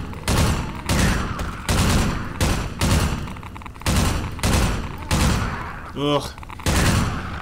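Bursts of gunfire from a powerful but inaccurate gun in Half-Life 2, loud repeated volleys roughly every second with heavy thuds, a brief grunt from a player in between.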